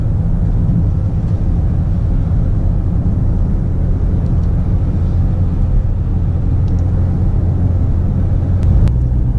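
A BMW X5 M50d diesel engine with a ZF8 automatic gearbox rumbling loudly and continuously from inside the cabin, a dense low drone with little change as the gearbox downshifts.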